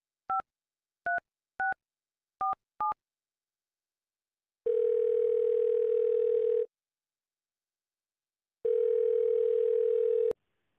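A telephone on an unanswered call: five quick touch-tone dial beeps, then two long steady ringback tones separated by a gap of silence, clean and close with no voices.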